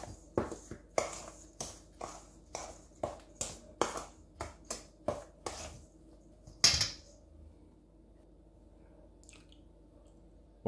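Flour, sugar and baking powder being stirred together in a bowl for apple crumble, a steady run of soft, close scraping strokes in a quick rhythm, then a few scattered clinks before it falls quiet.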